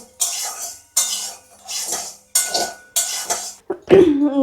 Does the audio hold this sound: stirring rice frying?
yes